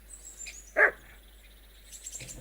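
A single short dog bark sounds in the video game Kingdom Come: Deliverance II, a faint, distant yelp over quiet ambient background.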